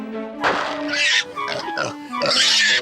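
Pig grunting and oinking close by in a loud series of rough, nasal bursts separated by brief pauses, with no speech over it.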